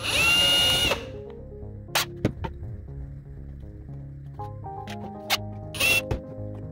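Power drill boring holes in a bathroom cabinet, a loud close whine for about a second that stops, then scattered knocks and brief squeaks of handling and short bursts as work continues.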